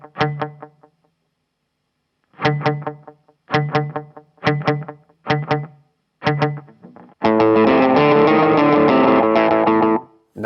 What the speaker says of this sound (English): The more you turn it up, the louder the echoes get.